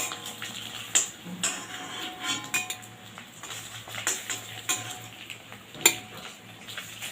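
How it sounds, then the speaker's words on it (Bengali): Bay leaves and curry leaves sizzle softly in hot oil as tempering for an egg pepper fry, with a steady faint crackle broken by sharp clinks of a metal spoon stirring the pan. "ফোড়নে দিয়ে দিচ্ছি তেজপাতা আর কারি পাতা"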